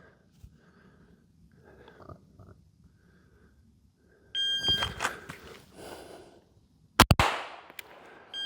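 Gunshots fired at a target during a pistol shooting drill, a sharp loud crack near the end after quiet handling noises, then a second burst of sharp reports close by.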